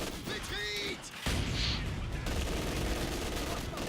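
Machine gun fire sounds in a Company of Heroes 2 3v3 match, with dense rattling bursts and battle noise layered over constant game sound and a voice talking over the action.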